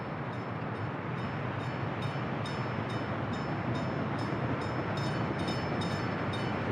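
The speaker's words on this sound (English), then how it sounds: "The train is running straight through these guys." A train from the game Workers & Resources rolls along its rails with a steady, continuous rumble and faint rhythmic clicking, loud and close, with no talking over it.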